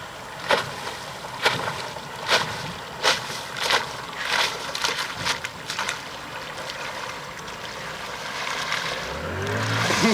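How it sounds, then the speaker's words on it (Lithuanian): A boat moves across open water with a steady wash, broken by a run of sharp knocks and splashes like oar strokes, ending in a low rumble that rises near the end. "Viena valtis plaukia."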